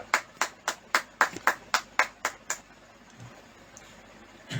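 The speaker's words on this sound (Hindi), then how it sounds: "इस समय समझन हम तालियों से स्वागत करेंगे पवित्र आत्मा।" Rhythmic hand clapping from a church congregation, about ten sharp, evenly spaced claps close by, which then stop and leave quiet room noise.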